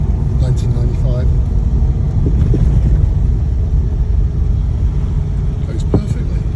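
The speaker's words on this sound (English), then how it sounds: "I'm driving slowly, but getting so much enjoyment from it in this analog Porsche 911, 993, 1995." A 1995 Porsche 911 of the 993 generation moving slowly through town, its low engine rumble and road noise steady beneath wind buffeting, with occasional faint higher sounds over it.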